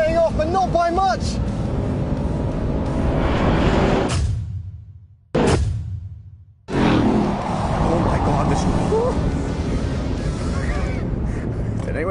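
Ford Raptor R and Ram TRX pickup engines roar loudly at full throttle during a drag race, the sound briefly cutting out twice before the heavy drone returns, with a voice heard near the start.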